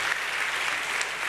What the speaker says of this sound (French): je pense qu'on peut encore l'applaudir une dernière fois